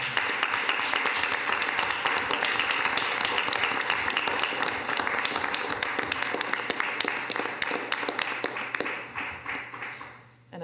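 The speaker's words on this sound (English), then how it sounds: "you guys deserve a round of applause" A sustained round of applause from a room of attendees at a town board meeting in Brighton, honoring the Indigenous Peoples Day Committee. Dense, steady clapping runs for about nine seconds, then tapers off.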